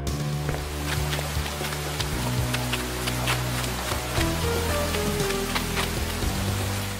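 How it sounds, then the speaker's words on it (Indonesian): Steady rain falls outdoors, a continuous hiss of drops with scattered sharper ticks of nearer droplets, holding an even level throughout with no one speaking. "Pasti hujannya reda."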